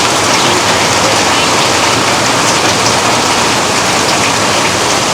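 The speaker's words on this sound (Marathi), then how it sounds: "आज सकाळपासून पाऊस नव्हता आणि अचानकच पाऊस सुरू झाला आहे." Sudden heavy rain shower near a beach in South Goa, a dense, loud, unbroken hiss of downpour drumming on surfaces, steady throughout and close by, with no voices.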